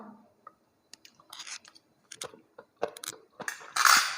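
Crisp, wet crunching of spicy Lao papaya salad made with fermented fish sauce, eaten with morning glory, comes in short irregular close bites that build to a louder burst of chewing near the end, with no talk.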